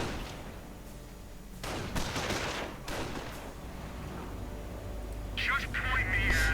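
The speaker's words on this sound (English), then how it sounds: "MG gunner up and firing" A machine gunner opens up in a WWII real-time strategy game, with bursts of rapid gunfire and broader battle noise sounding across the scene over several seconds, under an ongoing commentator's voice.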